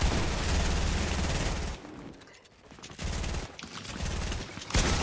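Rapid gunfire in Fortnite, loud and close, rattling in continuous bursts that break off into a short lull before firing resumes.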